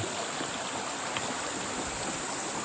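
Irrigation water flows steadily into a cornfield past a row of sandbags along the field edge, a continuous broadband rush with no pauses and no talk.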